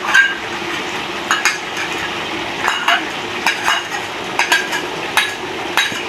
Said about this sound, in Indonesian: Kita masukin sardennya ke dalam wajan. Kita masak sardennya ya